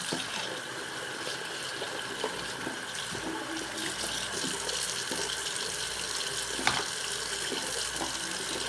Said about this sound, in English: So just take this out and rinse it off.